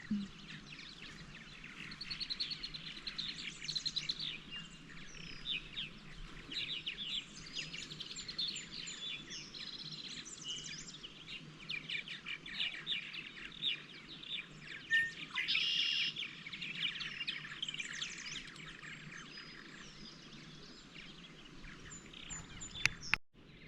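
Red-winged blackbird and a flock of purple martins calling in a park, a dense, steady chorus of chirps and trills at moderate distance with no talking.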